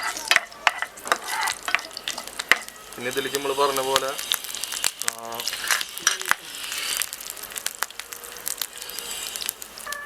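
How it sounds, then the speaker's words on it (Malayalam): Mustard seeds crackle and sizzle in hot oil alongside urad dal and chana dal while egg dosa and tomato curry are prepared, with sharp irregular pops over a steady frying hiss and someone talking over it. "കടുക് പൊട്ടി തുടങ്ങി."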